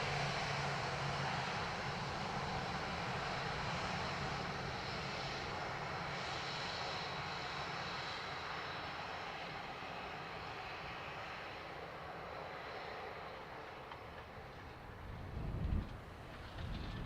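A Ryanair airliner arriving from Alicante at Dublin Airport, its engines a steady, broad jet roar heard from a distance, holding level throughout with a brief low rumble near the end.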